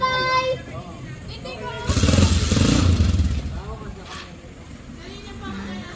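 A motorcycle ridden by Tita Daphne passes close by with a loud swell of engine roar in the middle before it fades, while people chat and call out around it.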